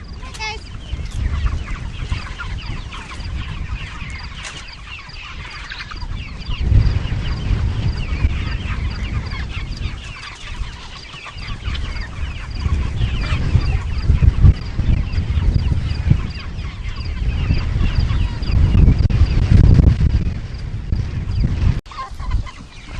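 A flock of trained urban farm chickens clucks and calls continuously, some birds close and others farther off, with steady rustling beneath and a person speaking at moments.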